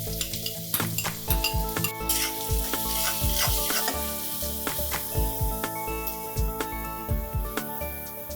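Onions fry in heated mustard oil and regular oil with cumin seeds, giving a loud, steady sizzle. A spatula clinks and scrapes against the pan as the onions are stirred, and soft background music plays.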